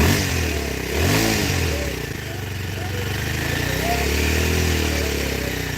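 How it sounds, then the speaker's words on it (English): A fuel-injected Kawasaki KLX 230 motorcycle with its stock exhaust idles close by, then gives one quick throttle blip before settling back to a steady, slightly clattery idle. "Go ahead and rev it up a little bit."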